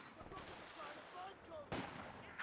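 Faint G43 rifle fire in a Company of Heroes 2 battle, a few distant cracks and one sharper report near the end amid low battlefield noise.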